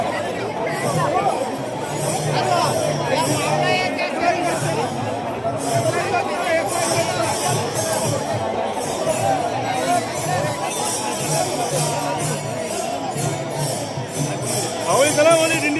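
A thick, unbroken hubbub rises from a large throng of pilgrims in Pandharpur, many overlapping voices near and far, with faint clinks and chatter running under it throughout.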